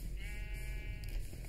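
A sheep in the video game Minecraft gives one short bleat over a steady low rumble of background noise, moderately close, with no voices.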